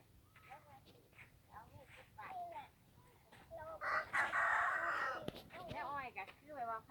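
A rooster crows loudly in the middle while chickens cluck around it in a rural Thai farmyard, with someone talking quietly throughout.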